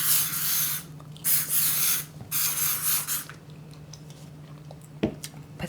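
Several bursts of a spray bottle misting onto hair, each lasting about half a second to a second, close and crisp, with soft rubbing and gum-chewing sounds in between.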